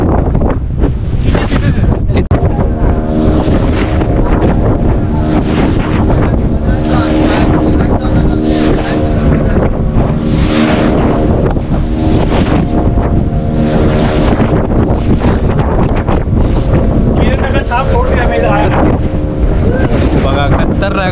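Strong wind roars across the microphone during a speedboat ride off Malvan in Kokan, with a loud, continuous gusting rush over the motor and splashing water, and voices faintly mixed in.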